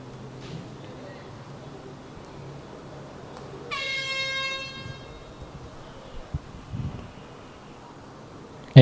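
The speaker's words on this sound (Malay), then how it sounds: "Horn sudah dibunyikan. Tamat separuh masa pertama." At a Perlis versus Pulau Pinang football match, a single loud air horn blast, lasting a second or two, signals half-time. It rises mid-distance over outdoor wind and faint stadium ambience.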